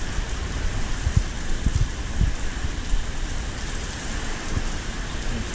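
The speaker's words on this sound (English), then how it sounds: "it started raining again." Steady rain pours during a severe thunderstorm, wind-driven and heavy, drumming on and around a Ford Bronco with its windshield removed; a constant dense wash with occasional low thumps and no voices.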